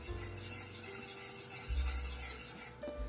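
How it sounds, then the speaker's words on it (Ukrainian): A spoon stirs salt into vinegar in a bowl, with soft scraping and swishing that grow louder near the end. Nobody speaks. "Перемішуємо сіль з оцтом"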